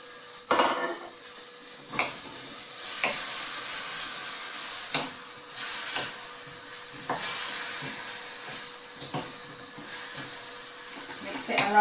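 Pork adobo with potatoes is stirred in a pan, with scattered scrapes and clunks of a utensil against the pan over a soft steady sizzle and hiss, close and moderately quiet.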